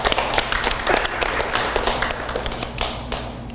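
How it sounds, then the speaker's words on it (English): Dense, steady clapping from a live audience at a photography posing workshop, close and continuous, with many overlapping hand claps and no voices. "that's a round of applause, I think, for that one"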